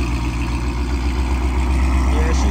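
A Ford Mustang with a catless X-pipe and Corsa exhaust runs after a warm start, a loud, deep, steady idle rumble filling the clip close up, with a voice talking over it.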